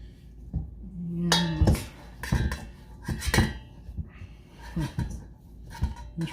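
A spoon clinks and scrapes against a metal sink while sticky protein bar mixture is worked off it, giving a series of sharp metallic knocks and rattles, close and irregular.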